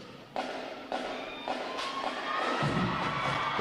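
An audience in a Navy Recruit Training Command drill hall cheers and applauds as graduating boot camp divisions enter, with crowd noise and shouts building in surges and thumps, growing louder and fuller toward the end.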